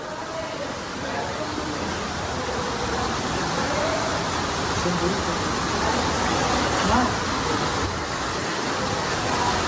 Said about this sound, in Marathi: वरतून असा धबधबा येतोय